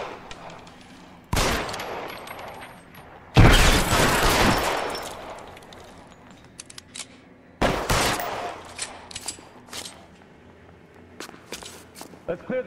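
Bursts of automatic gunfire in LA Noire erupt in several loud volleys during a building shootout, separated by quieter stretches of footsteps and scattered single shots.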